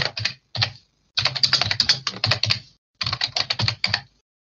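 Close, crisp computer keyboard typing, heard alone in quick bursts of keystrokes separated by short pauses.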